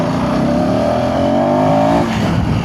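A 2026 KTM ADV 350 motorcycle engine pulls hard under acceleration, its loud, close drone climbing steadily in pitch for about two seconds before the note breaks up as the revs shift.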